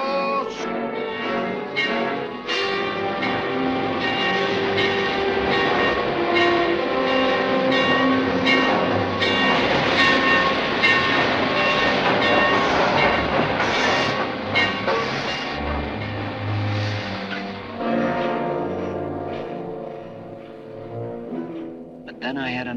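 Train in a 1947 radio western drama, a steady rumbling roll with clattering wheels and horn-like tones running continuously for over twenty seconds, loud and close, blended with music.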